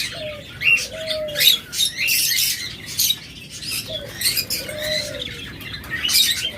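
Pet birds such as lovebirds, budgerigars, Java sparrows and cockatiels chatter together at close range, dense overlapping chirps and squawks with a couple of clear rising whistles standing out.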